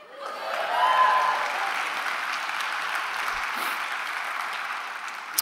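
An audience at an opening address applauds in a sustained wash of clapping that swells early, then holds steady until it tapers near the end.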